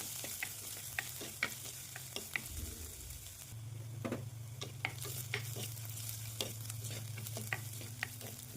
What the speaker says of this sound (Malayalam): അത്യാവശ്യം നന്നായി വഴറ്റിയെടുത്ത ശേഷം ഇഞ്ചി ചെറുതായി അരിഞ്ഞതും വെളുത്തുള്ളി ചെറുതായി അരിഞ്ഞതും ആഡ് ചെയ്തു. നന്നായി ഒന്ന് വഴറ്റിയെടുക്കുകയാണ്.